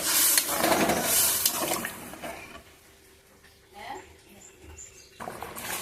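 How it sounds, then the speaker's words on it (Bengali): Water is poured into a pan of sizzling egg curry masala, a splashing, hissing pour loudest at the start that fades into quieter bubbling, with someone speaking over it. "এখন আমি জলটা দিয়ে দিচ্ছি।"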